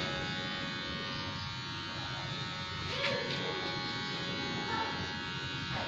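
Electric clippers buzzing steadily while trimming a mustache at a barber session, a close, continuous hum lasting throughout.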